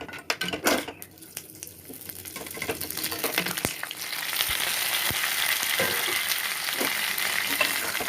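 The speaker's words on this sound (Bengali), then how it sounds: "ফোড়নটা একটু লাল হয়ে আসলে ভেজে রাখা সবজিগুলো আমি সব দিয়ে দেবো।" Fried vegetables tipped into hot Bengali tempering of dried red chilli and whole five-spice for sukto, giving a loud, steady sizzle and frying hiss with utensil clinks and stirring scrapes, close by and free of talk.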